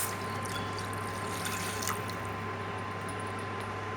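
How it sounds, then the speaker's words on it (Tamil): A tumbler of raw cow's milk pours steadily into a pan on a lit stove, a continuous close trickling wash over a low hum with no talking. "ஆன் பண்ணிவிட்டு இதில் 1 டம்ளர் அளவு நல்ல ஒரு காய்ச்சாத பசும்பால் ஊற்றுறேன்"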